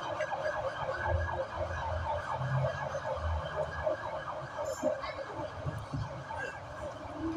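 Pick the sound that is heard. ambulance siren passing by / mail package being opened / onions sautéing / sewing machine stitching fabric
ambulance siren passing by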